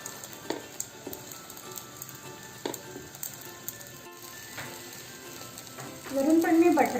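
Dabeli bhaji spread on a buttered griddle sizzles softly with occasional taps and scrapes of a spatula, then swells into a louder, close sizzle near the end.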